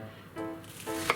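Knife roughly chopping enoki mushrooms on a cutting board in a home kitchen, with a couple of soft cuts and one sharp knock close up, all in about a second.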